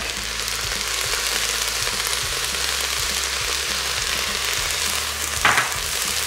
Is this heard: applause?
no